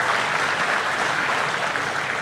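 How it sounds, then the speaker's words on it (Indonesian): At a mass mortgage-signing ceremony in Serang, Indonesia, an audience gives applause for the President. The clapping is dense and sustained and goes on evenly for the whole short stretch. "Kita berikan tepuk tangan buat beliau."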